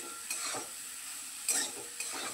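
Eggplant frying lightly in a covered pan, a soft steady sizzle broken by three short bursts of stirring scrapes, close and fairly quiet with no speech.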